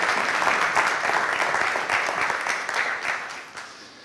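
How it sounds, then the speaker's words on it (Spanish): An audience at a Spanish-language lecture on control co-design of advanced energy systems applauds warmly, producing a loud, dense wash of clapping that holds steady and then tapers off toward the end. "un aplauso por haber venido, que no ha sido sencillo, y tenerlo aquí."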